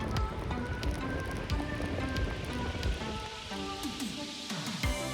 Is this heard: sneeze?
no